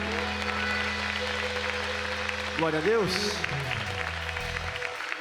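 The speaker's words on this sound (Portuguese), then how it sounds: "Vamos aplaudir bem forte" Church congregation applauding, a steady wash of clapping under music and a voice calling out over it, easing toward the end.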